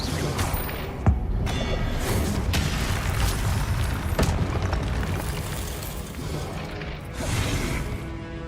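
Blasts of the Confringo explosion spell in a wizard video game, several sharp booms and crashes, clearest near the one and four second marks, over a busy continuous game soundscape.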